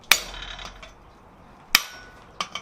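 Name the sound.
hammering slitting chisel into steel stock in vise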